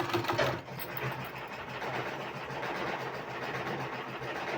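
A sewing machine runs steadily while stitching a fabric sleeve, a continuous close whirring hum with a brief louder burst at the start and no talking.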